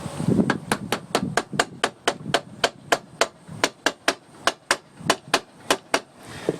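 Steady hammer blows strike a Honda Express SR scooter's Stage6 MKII clutch during install, about twenty sharp metallic knocks in an even rhythm, close and loud, with no talking.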